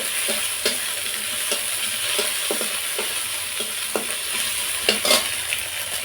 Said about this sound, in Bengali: আদা কাঁচা লঙ্কাটাও আমি একটু তেলের উপর এইভাবে কষিয়ে নিচ্ছি।